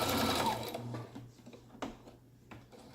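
A sewing machine back-stitches along the edge of fabric, running in a fast whirring burst that stops within a second, followed by a few faint mechanical clicks and taps.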